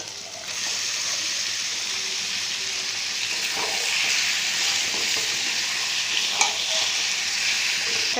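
Chicken fries in masala with tomato and green chilli, giving a steady, close sizzle with occasional stirring scrapes throughout and no talking.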